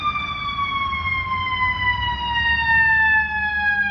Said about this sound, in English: as there's an ambulance